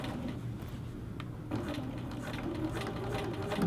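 A sewing machine stitches a zipper onto a little girl's dress, its steady, close mechanical whir and rapid needle ticking running continuously at moderate volume with no talking.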